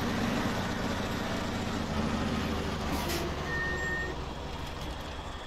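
A truck in the SnowRunner video game rumbles steadily along with a low engine drone, while faint reversing beeps and a brief air-brake hiss sit in the background.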